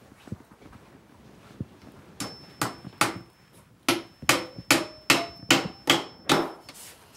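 Hammer blows drive together the glued wooden joints of beekeeping equipment in a backyard workshop: about ten sharp, close knocks in a steady rhythm after a few quieter taps, with no voices.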